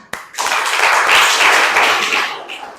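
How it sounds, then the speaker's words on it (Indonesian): A classroom audience bursts into brisk clapping after a sharp opening clap. It swells to a dense, loud patter, then tapers off near the end. "Tepuk tangan."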